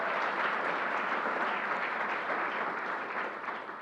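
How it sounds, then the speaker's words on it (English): A roomful of people applauding at a LEGOLAND New York Resort opening event, a dense, even wash of clapping held for several seconds before easing slightly, no speech over it. "Let's give Don a round of applause."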